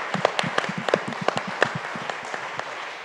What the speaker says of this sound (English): Can we clap for that though